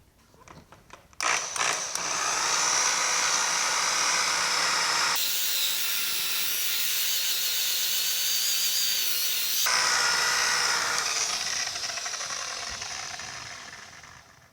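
A foam polishing wheel on a power polisher buffs the cab of a 1950 Chevy five-window truck, a steady high-pitched whirring that starts after a second and holds close and loud, with a brief change in load midway.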